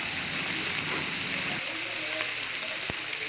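Fish coated in masala fries in a pan over a medium flame, giving a steady, dense sizzle that holds throughout, with a faint click near the end.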